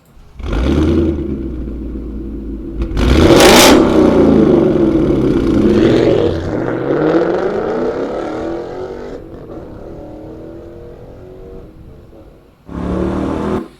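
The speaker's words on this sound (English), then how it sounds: "Listen for those very high tones of the raspiness of the exhaust" A car engine revs hard and loud through a Borla exhaust with a raspy, crackling tone, rising and falling in pitch before a final short blip of throttle.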